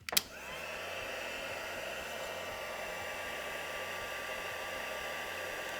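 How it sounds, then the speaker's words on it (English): A heat gun blows steadily over black Ranger embossing powder on gloss card, a loud, even, breathy whoosh starting with a sharp click and holding constant throughout. "we can pop our embossing powder to one side now and bring the heat gun in."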